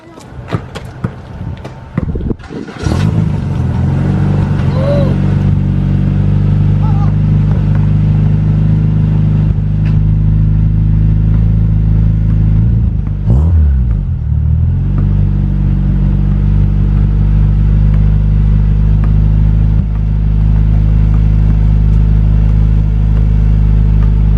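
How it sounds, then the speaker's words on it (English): A turbocharged Acura Integra DA9 with a full exhaust system starts with a sharp crank, then settles into a deep, steady rumbling idle with a brief blip of revs midway. "fire the car for the first time with the full exhaust system, and let's see how it sounds"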